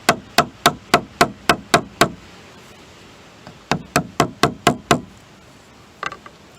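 A chisel is tapped into rattan while making a practice sword, giving crisp, evenly spaced knocks: a run of eight, a short pause, another run of seven, then one last isolated tap, close and clear.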